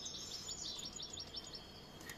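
Faint, quick high-pitched chirps from young mutation goldfinches in a rapid trill, distant and soft over a quiet background.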